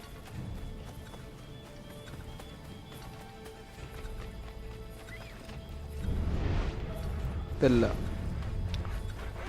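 Horse hooves clip-clop at a steady ride in the Assassin's Creed III video game, with a whinny and a louder clatter near the end, mixed under game sound and speech.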